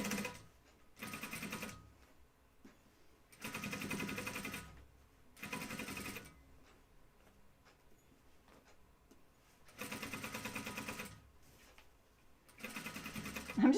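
A home sewing machine stitches the collar of a flight suit in four or five separate bursts of rapid mechanical whirring, each lasting about a second or two, with quiet pauses in between.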